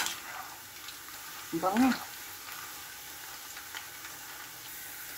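About six garlic cloves fry in oil until brown and crispy for a spicy peanut snack, with a soft, steady sizzle throughout and a brief spoken word partway through.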